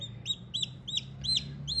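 A newly hatched karunkozhi chick in an incubator chirps in short, high, piercing peeps, five evenly spaced calls close by over a low steady hum, with no talking.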